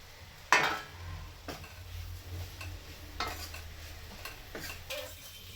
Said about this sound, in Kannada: ಈಗ ಸಣ್ಣದಾಗಿ ಕಟ್ ಮಾಡಿ ಹುರಿದಿಟ್ಕೊಂಡಿರೋಂಥ ಬೆಂಡೆಕಾಯಿ ಹಾಕ್ತಾ ಇದ್ದೀನಿ